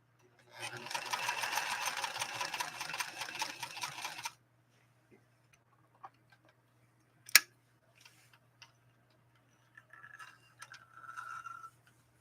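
A White Model 742 sewing machine runs a zigzag stitch on 100% cotton, a rapid rhythmic whir for about four seconds, then stops, followed by scattered clicks and faint handling sounds.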